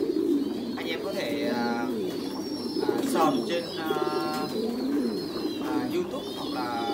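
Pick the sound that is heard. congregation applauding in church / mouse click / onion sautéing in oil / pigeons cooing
pigeons cooing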